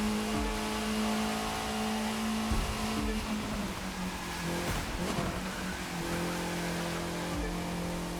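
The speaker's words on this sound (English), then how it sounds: "Front wheel drive car, bit understeering." Car engine in The Crew 2 racing game, a front-wheel-drive car understeering, droning steadily with shifting revs throughout, loud and continuous with no talk over it.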